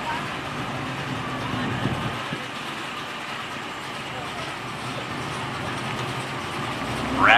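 Supercharged Dodge Hellcat and Demon muscle cars idling at a drag strip before a race, a steady low engine rumble with crowd and track noise throughout, rising louder at the very end.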